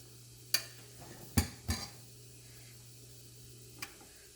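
Beaten egg poured over a dosa on a hot pan gives a faint, quiet sizzle, with a few sharp clicks and scrapes from the utensil against the pan.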